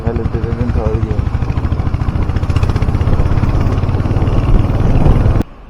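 A Royal Enfield Hunter 350 carrying a pillion thumps steadily in third gear over a speed breaker, its single-cylinder beat loud and close with wind rush, then it cuts off abruptly.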